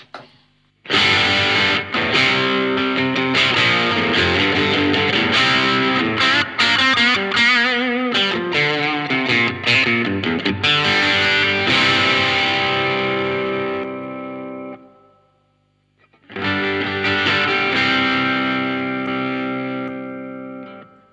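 Electric guitar through a Blackstar low-gain overdrive pedal plays chords and riffs with a gritty, saturated tone, ringing out, pausing briefly, then strumming again.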